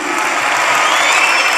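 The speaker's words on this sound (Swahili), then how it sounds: "Nataka wewe ujipigie makofi mazuri." A congregation at a church service claps steadily and loudly, a thick continuous wash of hand claps with a faint crowd murmur beneath.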